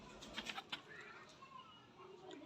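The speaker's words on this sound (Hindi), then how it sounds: "बड़े लाजवाब कबूतर हैं" Pigeons coo softly and at a distance, a few brief wing flutters up front, then faint low calls trailing off in a quiet setting.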